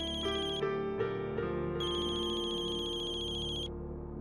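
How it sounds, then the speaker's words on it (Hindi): A melodic electronic phone ringtone plays steadily and fairly loudly, a repeating tune of bright tones with no voices. "अरे अर्जुन का ही फोन है।"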